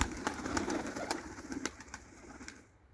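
Crested Turkish takla pigeons coo softly in a short series of low, throaty calls over faint background noise, fairly quiet and near, with no speech.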